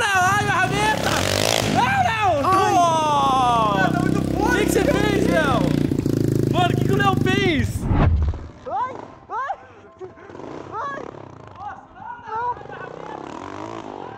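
Mini motorbike running on aviation gasoline revs loudly and roars up close with rising and falling engine pitch, then cuts out abruptly, followed by excited shouting and chatter from several people.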